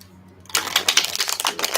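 Tarot cards are shuffled in a quick burst of rapid, crisp riffling clicks that starts abruptly after a brief quiet moment, close and fairly loud, with no speech over it.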